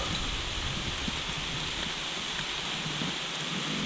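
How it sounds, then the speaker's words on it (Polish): Steady rain falls continuously during an outdoor dig, a dense even hiss with no pauses, close and fairly loud. "deszcz pada"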